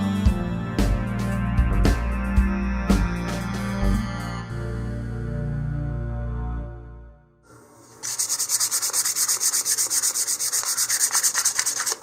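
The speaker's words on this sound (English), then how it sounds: "I'm also going to give a light sanding all the way around the nose" Light hand sanding around an Estes Goblin model rocket nose cone, first as rhythmic rubbing strokes with sharp scrapes, then after a brief pause a faster, hissier run of short abrasive strokes close up.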